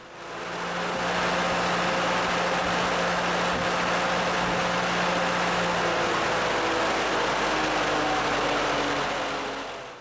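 An engine under an automatic start-stop controller with a high-low pressure switch runs steadily at a constant drone, loud and close, with a broad roar that holds evenly throughout and no voices.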